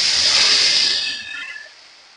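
Water poured into a pan of fried small hilsa fish with slit green chili, giving a sharp burst of hissing sizzle that fades away over about two seconds.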